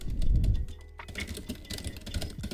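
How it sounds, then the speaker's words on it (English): Someone types on a computer keyboard, giving a quick run of close, light key clicks after a brief muffled thump at the start. "are the keyboard noises fine? Like if I type like..."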